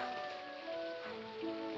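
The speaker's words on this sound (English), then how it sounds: "But in this rain." Rain falling during a film scene, a faint steady hiss under a soft orchestral score with sustained tones, continuous and distant.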